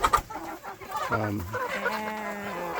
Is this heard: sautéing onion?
no